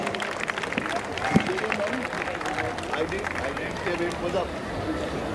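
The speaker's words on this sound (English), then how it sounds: "let's give them a big round of applause and a warm welcome on stage" An audience claps as judges come on stage at a youth week drama event, a continuous spread of applause mixed with crowd chatter and voices.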